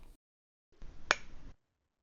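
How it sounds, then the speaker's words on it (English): A single sharp snap-like clap, AI-generated as one hand clapping by ElevenLabs SB-1, rising out of a short burst of soft rustling noise and then cut off to silence. "What is the sound of one hand clapping?"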